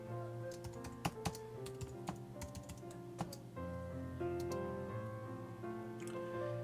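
Keys clatter on a computer keyboard as a username and password are entered, with irregular clusters of close, light clicks over a steady low hum, no talking.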